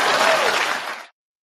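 A short burst of applause, dense crowd clapping heard close and loud, that fades and stops abruptly after about a second.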